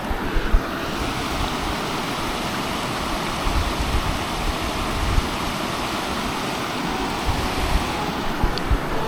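Fast-moving stream water rushes steadily during a crossing, a dense, loud, continuous roar and hiss with no break, heard close with some wind buffeting on the microphone.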